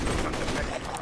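Gunfire in the Borderlands 2 video game, a dense, continuous barrage of rapid shots in a noisy, crowded battle, loud and unbroken for about a second.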